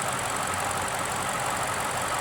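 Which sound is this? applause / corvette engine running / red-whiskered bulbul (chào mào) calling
corvette engine running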